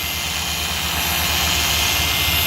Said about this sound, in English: And this is a dual action buffer.